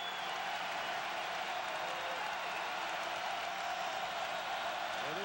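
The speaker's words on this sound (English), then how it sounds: "And this crowd can really kick in at Allen Fieldhouse." A basketball crowd at Allen Fieldhouse roars in a steady, far-off wash of cheering and applause that holds without a break throughout.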